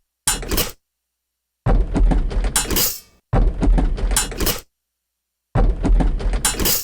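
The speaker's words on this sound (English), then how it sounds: "Now using this first pot hit as a kind of hi-hat sound." A wonky groove built from sampled pot hits, one of them standing in for a hi-hat, plays as short bursts of rapid metallic knocks and clanks that start and stop in bars, close and punchy, with no voice.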